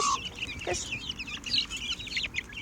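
Chickens cluck and chatter nearby in a busy, irregular stream of short calls, with faint background noise and no talking.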